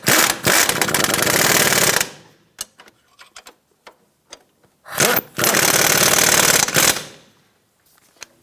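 Power tool tightening the front strut nuts on a 2004-2009 Toyota Prius, giving two loud rapid hammering bursts about two seconds each with quiet clicks and handling noises between them.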